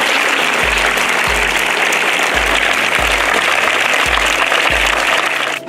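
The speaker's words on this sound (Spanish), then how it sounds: "el licenciado Gerardo Paul Vázquez, a quien recibimos con un fuerte aplauso." A crowd at a school event in San Antonio Abad claps loudly for the school director, dense continuous applause with a few rhythmic thumps underneath, sustained for several seconds before ending abruptly.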